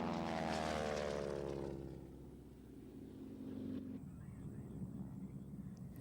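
Propeller aircraft flying aerobatics into a snap roll at an air pageant, a loud engine drone at first that eases off and drops lower, continuing steadily to the end.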